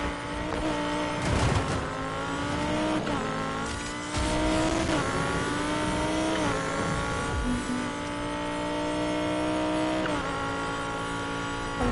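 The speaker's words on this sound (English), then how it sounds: "I'm just doing a quick race for some cash and Need for Speed Heat" Race cars in Need for Speed Heat roar through gear changes with rising and falling engine pitch, continuous and loud, with occasional tire screeches and bursts as they speed along.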